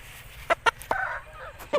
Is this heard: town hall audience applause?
no